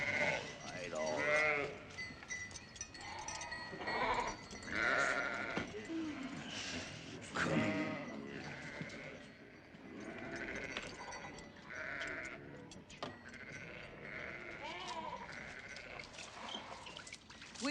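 Sheep and goats bleating at a desert watering well, several animals calling in overlapping bursts, fairly faint and mixed with voices speaking.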